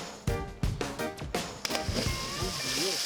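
A person jumps into water, several splashes and sloshing impacts in quick succession, followed by lapping water and a voice.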